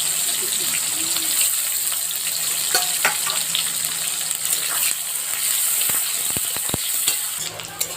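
Onions frying in a pan for a broiler chicken curry, a steady broadband sizzle running the whole time, with a few sharp stirring clinks near the end.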